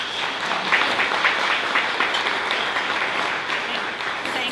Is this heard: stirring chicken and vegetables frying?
no